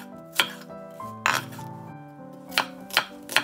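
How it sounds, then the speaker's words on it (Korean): A knife slices a green onion diagonally on a cutting board, giving five or six sharp, separate chops at an uneven pace, close and fairly quiet. "대파 한 대를 어슷 썰어주세요"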